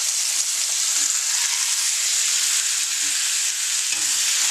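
A massive bacon-seared chuck roast sizzles loudly in a pan after being flipped, a dense continuous hiss that stays steady and close throughout.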